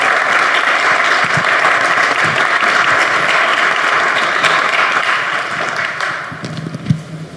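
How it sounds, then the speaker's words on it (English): An audience applauds at a sustainability forum and expo, sustained loud clapping that carries evenly for several seconds before gradually thinning out near the end. "Please welcome Michelle with an applause."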